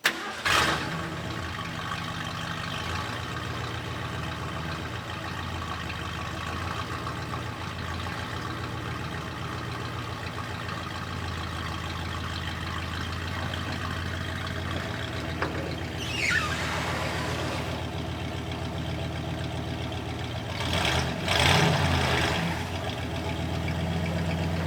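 A 1972 Ford F100 pickup truck's engine cranks at the start, catches and then settles into a steady, close mid-pitched idle that runs for the remainder, with a few brief revs and clunks near the end.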